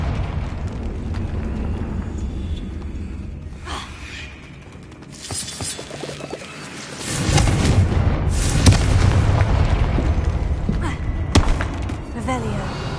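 A Confringo fire spell bursts in a wizarding video game, a loud booming blast that swells around seven seconds and rumbles on for several seconds amid other game effects and voices.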